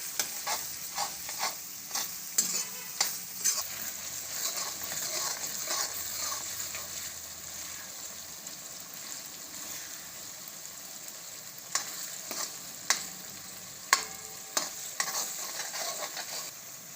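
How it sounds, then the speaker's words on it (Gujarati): Garlic fries in a pan for a cashew garlic curry, a steady close sizzle broken by the repeated scrape and clack of a spoon stirring, with no talk over it. "તો લસણને આપણે સારી રીતે સળવા દઈશું."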